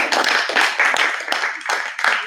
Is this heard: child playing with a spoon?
no